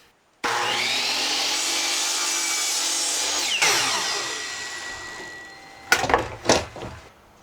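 A power saw cuts wooden trim for a bathroom renovation: a loud, steady whining cut runs about three seconds, then the motor winds down, followed by a couple of short sharp bursts of cutting near the end.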